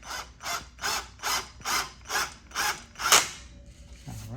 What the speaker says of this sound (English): every time you screw these screws in, you want to make sure you're holding them straight compared to the wood.